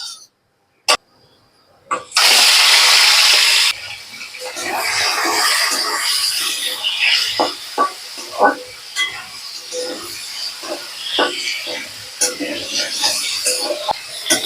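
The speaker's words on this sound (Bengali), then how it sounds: "এখন আমি চিংড়ি মাছটাকে ভেজে নেব" Prawns go into hot oil in a kadai: a sharp burst of loud sizzling, then steady crackling frying with occasional utensil knocks and scrapes close by.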